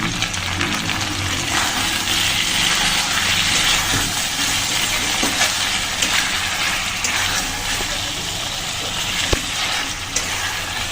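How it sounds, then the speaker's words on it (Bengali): Spices and potatoes frying in a pan for egg and potato curry, a dense, steady sizzle close up with occasional scraping clicks of stirring, with no talking. "এই মশলার সাথে আবার একটু সুন্দর করে কষিয়ে নেব।"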